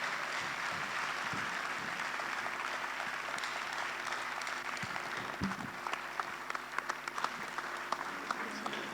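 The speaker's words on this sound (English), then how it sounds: "Let's keep clapping for" Sustained applause from a large audience at an economic leaders forum, a dense, steady wash of many hands clapping throughout, fairly distant and even in loudness, with no voices on top.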